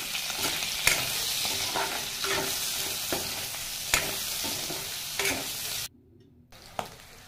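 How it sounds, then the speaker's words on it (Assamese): Spices with turmeric and salt fry in oil with a continuous bright sizzle, punctuated by regular stirring knocks of a spoon against the pan, then a brief drop to near silence near the end. "এইখিনি অলপ ভালকৈ ভাজি লৈ যাতে তেলখিনি ওলাই যায়।"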